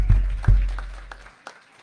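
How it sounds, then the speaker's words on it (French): A church congregation claps during a Sunday service, a short burst of applause that quickly thins out and fades to a few scattered claps. "On peut applaudir Sébastien, on l'encourage."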